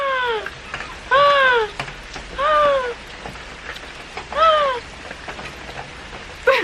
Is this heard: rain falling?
yes